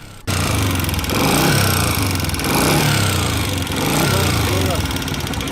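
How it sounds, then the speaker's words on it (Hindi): A loud, steady CG 125 motorcycle engine with a cylinder head noise fault running close by, with a harsh rattling drone that swells slightly in waves. "बाइक से आने वाली ये ख़तरनाक आवाज़ किस चीज़ की है?"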